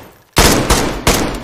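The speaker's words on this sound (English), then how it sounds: "They're shooting." Loud gunfire in DayZ during a castle PvP event, three sharp broadband bursts of shots in quick succession, the first hitting abruptly after a brief quiet moment, each one decaying quickly.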